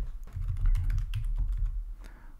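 Quick, steady typing on a computer keyboard, a run of light clicking keystrokes over a low background hum, with no voice.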